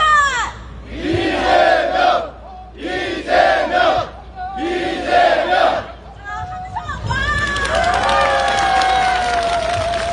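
At an outdoor Korean political rally in a Jeju city rotary, a large crowd shouts a chant three times in loud rhythmic bursts, then breaks into cheering and applause with a voice over a loudspeaker.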